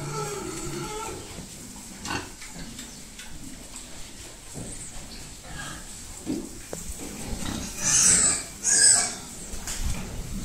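Pigs in a pigsty on a farm, with a couple of loud squeals near the end over a background of shuffling, low grunting and occasional voices.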